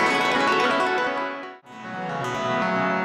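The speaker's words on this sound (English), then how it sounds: "So now the resonator is playing a random note sequence." A sympathetic strings resonator patch in VCV Rack rings out with a dense, bright metallic wash of sustained tones that fades briefly to near silence midway, then swells back with a new chord of resonating strings.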